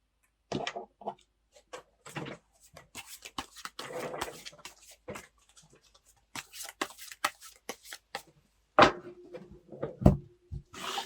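Tarot cards being shuffled and handled, giving scattered soft riffling clicks and brushing taps in irregular bursts with brief pauses, close and fairly quiet, with no voice.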